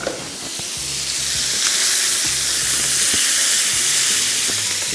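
Lemon pepper chicken with black pepper and lemon juice sizzles and fries steadily in a pan, a constant close hiss with occasional stirring scrapes and clinks, no talking.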